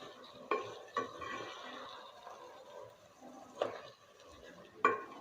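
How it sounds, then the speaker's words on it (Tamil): Vegetables and rice coated in masala are stirred in a pot for vegetable biryani, with soft scraping and a few distinct clinks of the spoon against the pot at a low level. "நல்லா அந்த வெஜிடபிள் அரிசி அந்த மசாலோடன்ற மாதிரி நல்லா கிளறி விட்டுக்கோங்க."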